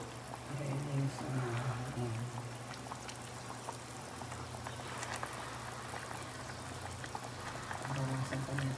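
Pata hamonado, braised pork hock, simmers in its sauce in a pot with bok choy added, giving a steady low bubbling and burbling boil throughout, with some faint background voice-like sound.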